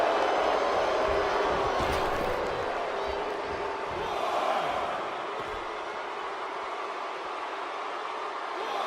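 A virtual arena crowd roars throughout a women's title match in the wrestling game WWE 2K19, a steady loud wash of cheering and shouting that swells around the two-second mark and again near four and a half seconds.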